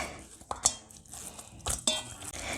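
Garlic marinade for fish tacos stirred with a utensil in a bowl, a few quick scraping strokes and sharp metallic clinks, close and fairly quiet, with no speech.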